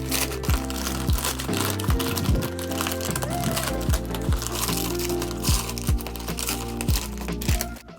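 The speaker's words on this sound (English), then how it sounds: "I'm wondering if I can just rip into it." Crinkling and tearing of a large plastic mailer package being ripped open, a steady run of crackly, crumpling bursts with sharp snaps throughout, close to the microphone and without talk.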